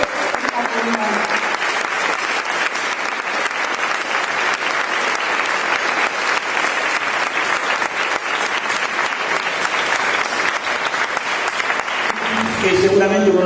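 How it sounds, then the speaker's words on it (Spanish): An audience at a gathering of people who resisted the dictatorship applauds loudly and steadily for over twelve seconds. A voice speaks briefly as the clapping ends. "sino con un fuerte, fuerte aplauso"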